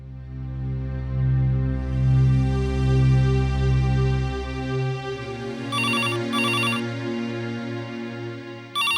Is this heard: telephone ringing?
yes